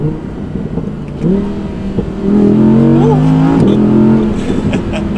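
Audi R8 RWS V10 engine in dynamic mode accelerating hard, a loud close rising howl that builds in pitch and holds steady, staying under 4,000 RPM, with no talking.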